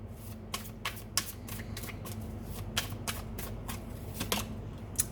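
Tarot cards being shuffled and drawn by hand, a run of crisp, papery flicks and snaps at an irregular pace, close and fairly quiet over a steady low background hum.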